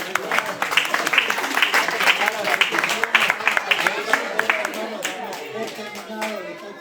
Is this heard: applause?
yes